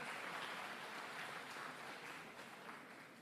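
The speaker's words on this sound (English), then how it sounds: "Please give him a very big round of applause" Dense, steady applause from a large audience fills a college engineering graduation ceremony hall, held at an even level and easing slightly toward the end, with no voices over it.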